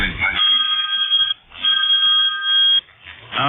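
A landline telephone rings in two long electronic trilling bursts with a short pause between them, loud and close, while a voice talks faintly under the ring.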